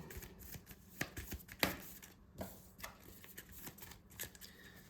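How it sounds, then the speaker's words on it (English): Cards from a Slay the Spire board game deck being shuffled, a quick run of crisp riffling snaps and soft slides in irregular bursts, close and fairly quiet with no talking. "Shuffle up."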